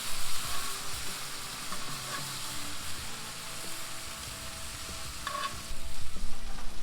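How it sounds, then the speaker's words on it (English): Steak frying in a pan gives a steady crackling sizzle that carries through the whole stretch, close and fairly loud, with some stirring or scraping noises layered over it and no talking. "Gonna go ahead and flip my steak here."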